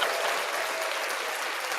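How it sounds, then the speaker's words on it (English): Dense, steady applause fills the whole moment, a broad wash of many hands clapping at once with no break, loud and close, as a podcast audience responds. "Give me another applause."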